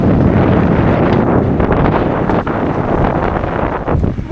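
Strong wind of over 20 knots while sailing a boat off Malta, roaring as loud, constant buffeting across the microphone with no voices.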